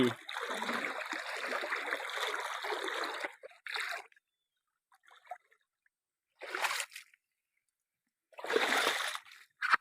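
Broadband water rushes steadily for about four seconds from a stream flowing through a rural field, then drops to near silence with brief faint trickles, returning in two short, close bursts of splashing flow.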